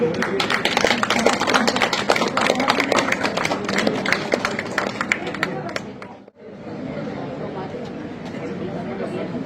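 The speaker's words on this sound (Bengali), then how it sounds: "আপনার হাততালি দেবেন।" Audience clapping at an All Bengal Lotus Club gathering in Kolkata for Ram Navami, dense and steady under crowd chatter, briefly dropping near the end before resuming more softly.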